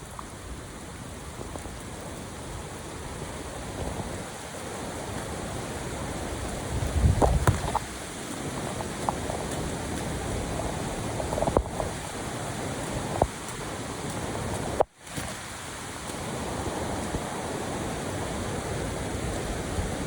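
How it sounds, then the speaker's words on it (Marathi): Heavy rain pours steadily near Kalu Waterfall on a monsoon trek, a constant broadband hiss of rain and rushing water filling the whole stretch, with a few louder splashes and knocks, no voices. "इतका भयानक पाऊस चालू झालाय ना आता मात्र आपली फजिती होणार आहे"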